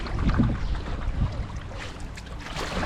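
A small boat drifting unpowered on a flowing river in Vang Vieng, Laos, with continuous water wash and wind buffeting the microphone, close and fairly loud, no voices.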